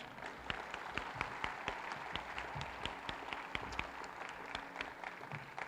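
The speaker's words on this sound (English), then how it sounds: "if you'd both give them again a round of applause" Dense crowd applause with many overlapping hand claps, steady and moderately loud throughout, no talking.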